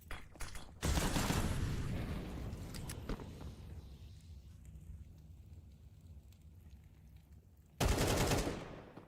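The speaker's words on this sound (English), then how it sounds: "Shots rattling off." Gunfire bursts in a Counter-Strike esports match between Sprout and B8, loud broadband crackle opening the clip, a quieter stretch of distant rattling shots, then another loud close burst at the end, with no talk.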